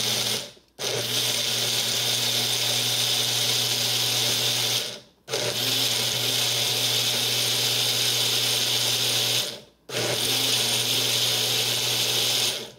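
An inexpensive personal blender whirs steadily as it blends frozen berries, banana, spinach and almond milk. The loud, continuous motor drone runs in three long runs separated by brief stops.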